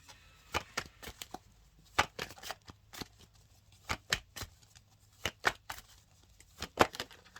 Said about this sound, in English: I feel like I want to keep shuffling for a little bit.